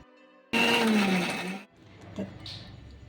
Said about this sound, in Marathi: मी आता मिक्सरमधून वाटून घेणार आहे जाडसर